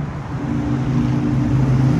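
Steady road traffic with cars passing close by, a continuous low rumble of engines and tyres without a break.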